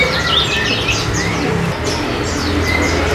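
Several caged songbirds chirp and tweet in quick overlapping bursts in a bird shop, with a low hum of indoor background noise.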